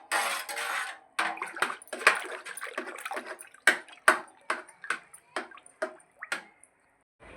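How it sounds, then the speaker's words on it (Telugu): Buttermilk whisked smooth in a vessel, heard as a series of separate wet splashing and clinking strokes in an uneven rhythm, close and fairly loud, with short quiet gaps between them. "ఉండలు లేకుండా శుభ్రంగా ఇలా చిలికేసుకుంటున్నాను."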